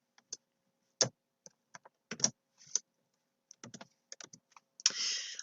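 Scattered clicks of computer keys being typed in short irregular bursts, close and fairly quiet, with pauses between keystrokes.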